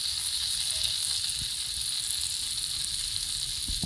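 Chicken tikka frying on a roti tawa gives off a constant, even sizzle with a bright hiss, close and steady throughout, with a couple of faint low knocks.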